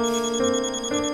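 A phone ringtone plays and goes unanswered, a bright electronic melody shifting pitch in short repeating phrases, loud and alone.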